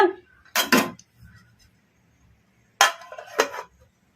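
A plate being set over marinated chicken for fry: two pairs of sharp ceramic clatters a couple of seconds apart, close and fairly loud against a quiet background, with no talking.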